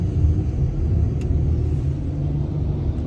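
A car driving along at steady speed, heard from inside as a constant low engine and road rumble with no voices over it.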